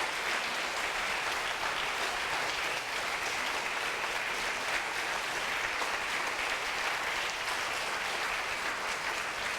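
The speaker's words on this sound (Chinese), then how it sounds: "咱鼓掌哈" Church congregation applauding during a Taiwanese-language Sunday Presbyterian worship service, steady dense clapping sustained throughout without pause, loud and close, no voices above it.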